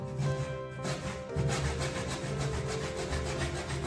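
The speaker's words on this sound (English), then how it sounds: "You can saw off such a molding at 45 degrees using an ordinary miter box and a hacksaw with a fine tooth." A fine-tooth hacksaw cuts a duropolymer ceiling molding at 45 degrees in an ordinary miter box, making quiet, rapid back-and-forth rasping strokes with a brief pause partway through.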